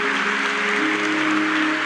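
Church congregation clapping together in steady, sustained applause that fills the space without pause, with sustained singing or organ-like tones carrying underneath.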